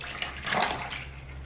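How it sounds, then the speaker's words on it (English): A brief, soft pouring of thick liquid soap batter into containers, a gentle continuous stream that swells slightly and fades, heard close with no talking. "Carefully pour into these containers."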